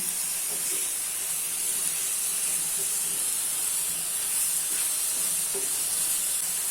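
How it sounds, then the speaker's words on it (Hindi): Chicken and masala stir-fried over a high gas flame produce a constant hissing sizzle, broken by a few faint scraping knocks from stirring. "गैस की फ्लेम को हाई कर लेना है और हाई फ्लेम पे अच्छे से मिक्स कर लेना है।"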